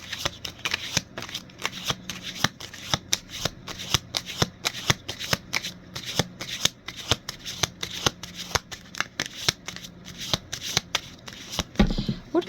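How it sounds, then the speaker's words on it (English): A deck of tarot cards is shuffled by hand in a steady run of crisp riffles and flicks, close and clear, continuing for several seconds. "Let's draw out the tarot and see what we're looking at for the messages."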